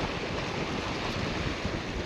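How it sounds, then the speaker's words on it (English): Strong wind blows steadily across a fishing pier, a loud, continuous roar buffeting the microphone, with surf and water noise blended underneath and no talking. "This wind came from nowhere."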